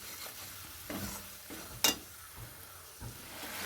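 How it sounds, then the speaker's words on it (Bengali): Spice masala fries in oil and is stirred, with a soft, close sizzle broken by spatula scrapes and one sharp metallic knock against the pan. "তো আমি মশলাটাকে খুব ভালো করে ভেজে নেব।"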